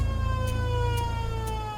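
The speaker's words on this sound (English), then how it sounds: "The siren is sounding at the Nostell Air Base." A steady air base siren tone holds throughout, heard from a distance over a low rumble, with no one speaking.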